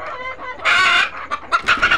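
Chickens on a Tiger breed egg-laying farm cluck and squawk loudly in bursts, a sustained cackle followed by several short repeated calls, close by with no talk.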